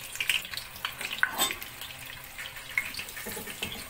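About 50 grams of butter melts in a pot that onions were just cooked in, giving a faint, steady sizzle with soft crackles and occasional small pops.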